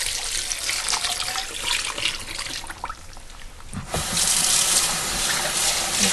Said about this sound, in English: Let's rinse this out with some more warm water.